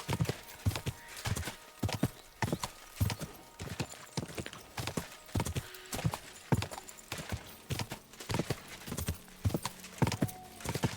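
Horse hooves clip-clop at a steady galloping rhythm during a forest ride in Kingdom Come Deliverance 2, regular and fairly close, continuing throughout at moderate loudness.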